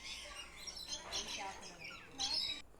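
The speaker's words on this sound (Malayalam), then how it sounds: "ഇവിടെ ഒരു കിളി ഇരുന്ന് ഭയങ്കരമായ സൗണ്ട് വയ്ക്കുന്നുണ്ട്." Birds at the Yercaud bird park give harsh squawks and chirps in short bursts, fairly close and moderately loud, with a louder call near the end.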